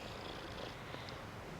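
A petite adult black-and-white tuxedo cat purrs softly and steadily at close range, a low continuous rumble in a quiet room with no voices.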